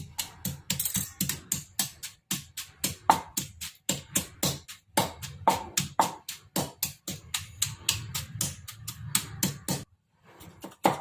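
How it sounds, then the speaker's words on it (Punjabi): Garlic and ginger pounded for village-style sarson da saag make a fast series of sharp, hard knocks in an irregular rhythm, close and fairly crisp, with a short pause near the end. "ਲਸਣ ਅਦਰਕ ਆਪਾਂ ਕੁੱਟ ਕੇ ਤਿਆਰ ਕਰਾਂਗੇ"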